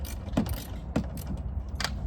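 Faint clicking from a ratchet loosening a door bolt on a Ford Bronco, a few soft ticks scattered over a low background hum.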